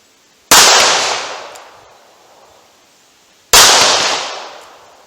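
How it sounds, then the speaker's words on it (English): Two loud revolver shots about three seconds apart from a Taurus fired single action with backwards-loaded .38 Special wadcutters at 70 yards, each sharp crack followed by a long decaying outdoor echo. "I got some backwards loaded 38 special wad cutters. I'm going to run through this Taurus, single action."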